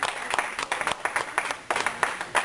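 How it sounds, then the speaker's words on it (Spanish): Church congregation clapping in a quick, irregular rhythm at a Sunday service, a short burst of applause of moderate loudness. "Es que usted le diera un aplauso al Rey de Reyes y Señor de Señores"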